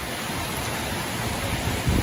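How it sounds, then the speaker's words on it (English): Heavy rain pours down steadily during a low-season thunderstorm at Jomtien Beach in Pattaya, a dense, even hiss filling the scene with no talking. "It's raining, it's pouring"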